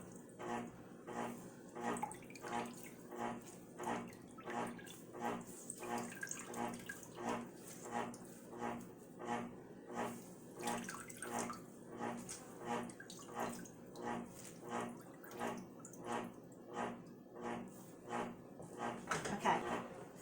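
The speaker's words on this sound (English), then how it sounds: "I'm going to squeeze all the juice out of there" Dandelion flowers squeezed by hand to press out their juice, giving a steady rhythm of wet, squelching squeezes repeating about once a second, close and moderately loud.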